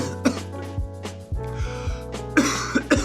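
A run of coughs, some muffled and stifled, others harsher, repeating irregularly up close without any speech.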